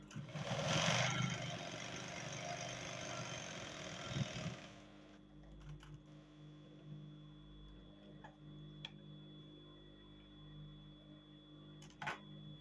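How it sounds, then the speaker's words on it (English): A sewing machine top-stitches cargo pants: a dense, steady whirring run for about five seconds, then quieter scattered ticks and clicks with a faint continuous hum. "I would like to top stitch together before I continue sewing."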